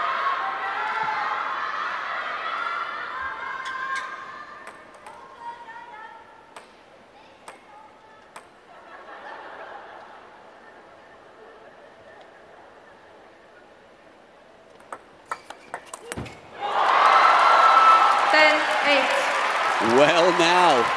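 Crowd at a table tennis match between Fan Zhendong and Ma Long, 2022 Singapore Grand Smash men's final, bursting into loud cheering and applause near the end after commentary and a few sharp ball ticks.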